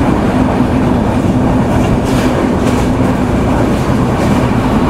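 Steady rumble and rattle of a Bangladeshi Madhumati Express LHB passenger coach in motion as a commuter train crosses alongside, a loud continuous roar with faint clickety-clack of wheels on rails and no talk.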